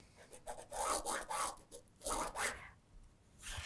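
A marker or pen is drawn across a fabric square against a tool, making soft, close-up scratchy rubbing strokes in short repeated passes.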